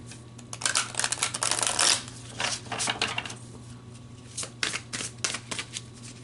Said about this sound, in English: Let's pull some more cards and go deeper.